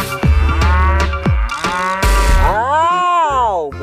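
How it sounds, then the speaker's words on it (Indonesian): A large cow mooing loudly and close, several long drawn-out calls in quick succession with rising and falling pitch, no talking. "di sini ada hewan sapi."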